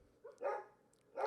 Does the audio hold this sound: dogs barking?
yes